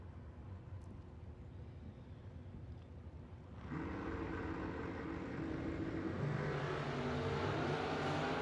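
Drag racing cars, including a 1979 Camaro, rumble at a distance, then a loud engine roar bursts in partway through and builds as the cars launch and accelerate.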